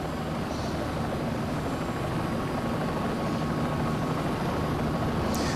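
A Bell 206 helicopter in the CowanSim flight simulator, running near its torque limit, gives a loud, steady, dense engine and rotor roar that stays unbroken throughout with no talking.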